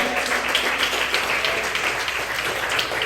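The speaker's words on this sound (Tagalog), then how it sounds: "Lahat tayo muna pumalakpak sa ating mahal na Panginoon." A church congregation claps together in praise during a birthday greeting for an assistant pastor, dense, steady applause filling the room throughout, with faint voices underneath.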